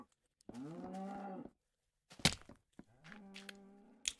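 Cows moo in a Minecraft-style video game barn, giving two drawn-out lowing calls with a thump and a short clatter between them, all close and clean against silence.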